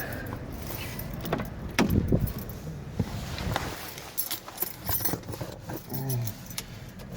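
Keys jingle as a car key goes into an Audi's ignition and turns, with a few clicks and rustles inside the car, close and fairly quiet.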